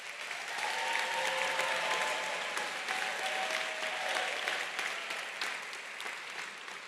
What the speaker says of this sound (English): let's give all of our initiates a big round of applause